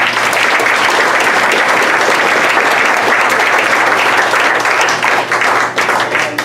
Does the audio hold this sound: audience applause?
yes